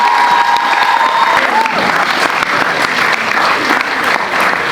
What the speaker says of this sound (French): Un tonnerre d'applaudissements pour les précieuses